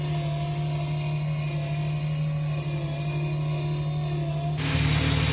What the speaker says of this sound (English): we'll let it idle for a little bit to get the air out of the cooling system